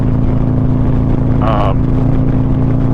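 A motorcycle exhaust drones steadily nearby, a low rumbling hum throughout, with a brief voice rising over it midway.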